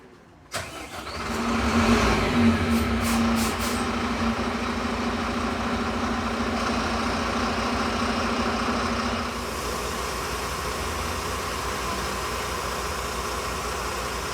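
A Wright Eclipse Gemini 2 double-decker bus engine cranks and catches, revving briefly before dropping to a steady diesel idle that rumbles on, heard close and alone.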